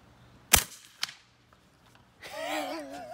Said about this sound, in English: I am shooting at the ground right in front of the target so you can hear how quiet this is.